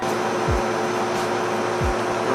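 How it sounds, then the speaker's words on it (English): A vacuum sealer packs whitetail deer backstrap and loin meat, giving a steady, close motor drone that runs unbroken throughout, with two brief low thumps partway through. "I'm going to be using it to vacuum seal the rest of our meat."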